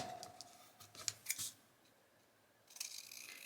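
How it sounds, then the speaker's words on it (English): Scissors chop a small piece of paper envelope off in a few quick, crisp snips close by, with faint rustling in a quiet room. "The little bit of envelope, I'll just chop it off"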